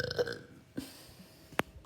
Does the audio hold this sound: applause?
no